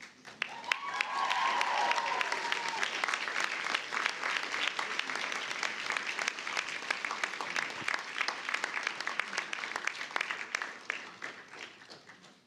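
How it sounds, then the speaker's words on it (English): Graduates at a university Faculty of Health graduation ceremony give a sustained round of applause for their families and friends, a dense steady clapping from a large hall crowd that holds for several seconds and then gradually thins out. "show them what a raucous, rousing round of applause sounds like"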